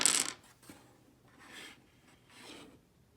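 Three dice tossed for a classroom math tic-tac-toe game: a sharp rattling clatter at the start, then two softer rolling, rubbing passes a second apart, close and alone with no talk.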